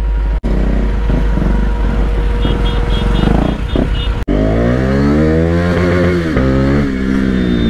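A Ninja 300 motorcycle engine revs and accelerates close by in city traffic, its pitch rising and falling steadily with a brief cutout midway, traffic noise underneath.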